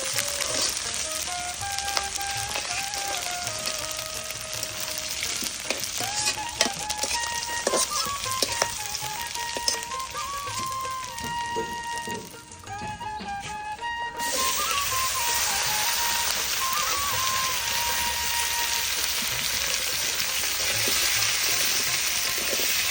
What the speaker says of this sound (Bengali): এই ইলিশ মাছ কষিয়ে দেওয়া হচ্ছে